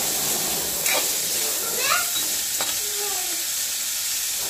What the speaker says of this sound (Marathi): याच्यामध्ये थोडं तेल घालते बर का परतायला. मस्त पैकी छान खरपूस परतायचे गवाऱ्या असं